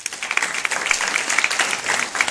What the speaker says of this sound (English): thanks and a big applause to all of them